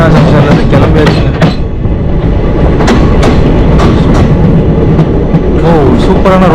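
A train leaving Krishna Junction on the Chennai–Mumbai route rumbles along the rails with a steady rhythmic clickety-clack, loud and close, the wheels thumping at regular intervals over a heavy low roar.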